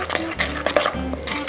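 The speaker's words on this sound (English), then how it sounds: "I'm going to take my pesto off and just stir it" Pesto for trofie al pesto Genovese, with green beans and potato, is stirred in a pan after coming off the heat, and a spoon scrapes and clinks against the metal in a few short, close knocks and scrapes.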